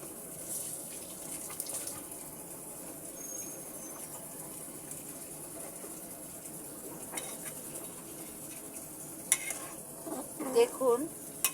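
Small potato pieces drop into a sizzling fish-head curry (muri ghonto) in a pan, with a steady low sizzle throughout and a few louder stirring and clattering bursts near the end.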